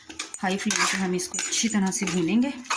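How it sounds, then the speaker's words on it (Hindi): A spoon clatters repeatedly against a cooking pot while chana dal fries over a high flame, producing quick metallic scrapes and knocks under a woman's speech. "आपको मेरे चमचे की आवाज़ आ रही होगी"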